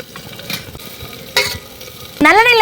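Small shallots sizzle and crackle in hot oil for mutton bone rasam while a utensil stirs and scrapes the pan, with a louder burst of frying near the end.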